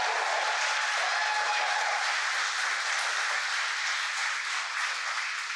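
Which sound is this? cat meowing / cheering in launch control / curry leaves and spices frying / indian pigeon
cheering in launch control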